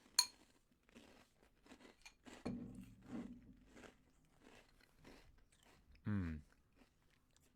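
Cap'n Crunch Christmas cereal bitten and chewed close up, giving a few quiet, scattered crunches and munches in a near-silent room, with a brief appreciative hum from the eater.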